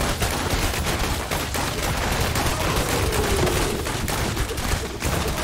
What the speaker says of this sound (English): Alright, time to shoot at him.